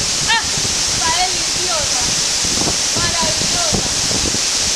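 Steady broadband roar of a waterfall in Buga, Colombia, continuous and loud throughout, with a few birds chirping over it and faint voices in the background.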